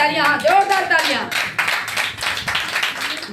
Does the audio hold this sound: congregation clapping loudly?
yes